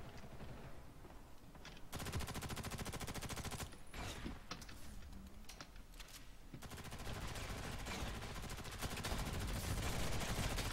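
Automatic weapons fire in the online shooter game FirstAssault Online, with long, rapid bursts and sustained rattling volleys, close and loud, broken by a short pause midway.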